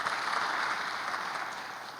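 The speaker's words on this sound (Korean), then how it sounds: "권정원 선생님과 우리 반주자 유해서 원우에게도 박수 한 번만 부탁드리겠습니다" Steady applause from a church congregation at a Korean worship service, a dense even wash of many hands clapping that holds for two seconds and fades slightly toward the end, moderately distant with no speech.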